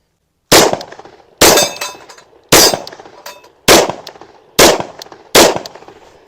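Six loud .357 SIG gunshots from a SIG P229 pistol ring out one by one at a steady pace, each a sharp close crack trailing into a short echo, with no talk between them.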